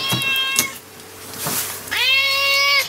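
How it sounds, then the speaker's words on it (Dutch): Two loud, close cat meows, the first breaking off after a short clatter and the second rising and then held, with some brief knocks and rustling in the gap between them. "de katten hebben een geweldige timing. Ik druk het opnameapparaat nog niet in of..."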